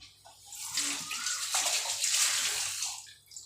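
Water trickling and splashing into a bowl of appam rice batter, a close, bright pouring sound that swells and fades over a few seconds.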